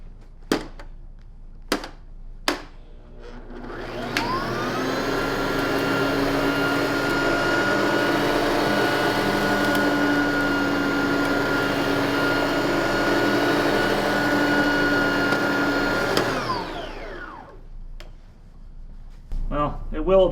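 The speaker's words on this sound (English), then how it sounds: "Let's see if it gets it on a second run." A Sebo Softcase CE12 lightweight upright vacuum cleaner whirs up after a few sharp clicks, runs at a steady, fairly loud hum for about twelve seconds, then winds down to quiet.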